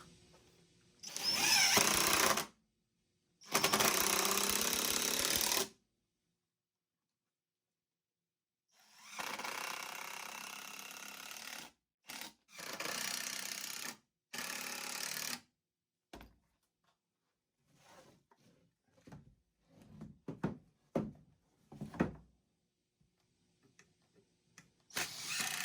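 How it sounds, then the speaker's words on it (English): A power drill drives screws into the wooden sides of a worm composting bin in several loud, sustained whirring bursts, separated by silences and followed by shorter zips and knocking thunks. "So now it's simply a matter of screwing all these sides together."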